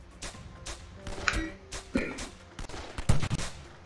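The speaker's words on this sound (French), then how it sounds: "Oh là, ça a tiré, j'ai entendu." Gunfire rings out in the VR shooter Silicon Rising, a few sharp, close shots and impacts scattered among game sounds and brief tonal pings, with no speech.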